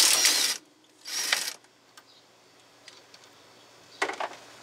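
A ratchet wrench loosens a bolt on the steering gearbox of a 1997 Crown Victoria Police Interceptor, with two bursts of rapid clicking, a few isolated ticks and a final short burst, close and alone.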